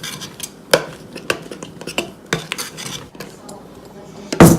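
A spoon clinks and scrapes against a bowl while green food coloring is stirred into a Christmas recipe mixture, with irregular sharp taps and a louder clatter at the end.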